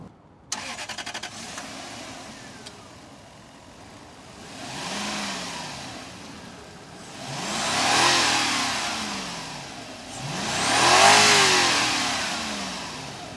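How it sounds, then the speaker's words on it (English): A Toyota Celsior V8 cranks and catches, then settles into a quiet idle before three rising and falling revs, each swelling louder and smoother, heard close with no talk. "and we'll start the engine"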